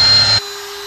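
A power drill fitted with a step bit bites into metal, starting slowly, with a loud grinding whir that cuts off abruptly and leaves a low steady hum.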